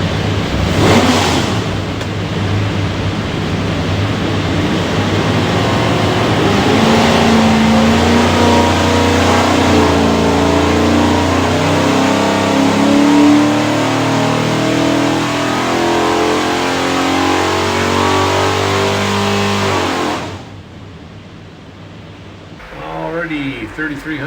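A 526-horsepower 427ci small block Ford V8 with a Quick Fuel carburetor and MSD Pro Billet ignition, built for an '88 F-150 4x4, roars loudly on a dyno. It climbs steadily in pitch over about twenty seconds, then cuts off into quieter idle.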